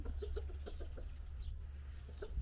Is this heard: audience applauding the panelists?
no